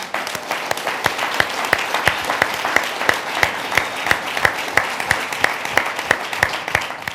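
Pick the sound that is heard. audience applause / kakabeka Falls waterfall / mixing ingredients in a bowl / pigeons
audience applause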